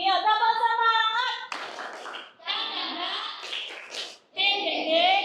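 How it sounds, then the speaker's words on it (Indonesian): A sixth-grade class chants the 'tepuk semangat' spirit-clap routine together. Bursts of crisp hand claps cut between stretches of their rhythmic, sung chanting, with a short pause before the final phrase. "Hari dan lindungi ya. Tepuk semangat."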